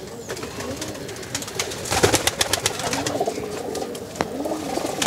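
Pigeons in a home loft cooing and calling close by, with a flurry of sharp wing claps and scuffling in the middle, over a steady background.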